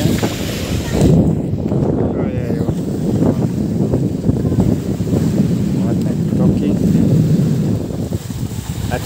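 Outdoor wind gusts buffet the microphone with a steady low rumble throughout, and a voice is faintly audible underneath.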